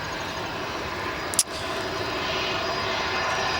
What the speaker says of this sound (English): This aircraft you are currently viewing does not appear to be on the radar